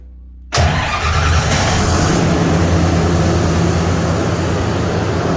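A generator set engine roars to life after a brief quiet moment and keeps running loudly and steadily at close range.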